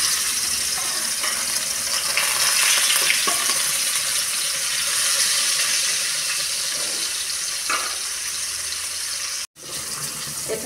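Fish frying in a hot kadai, a steady broadband sizzle and crackle running continuously and fairly close, with brief dips near the end.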